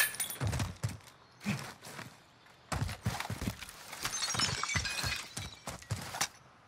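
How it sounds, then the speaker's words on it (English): Glass shatters in a video game, with several sharp, crackling breaks and clinking shards spread across a few seconds, fairly close and mixed with scuffing footsteps. "I heard a glass breaking the back."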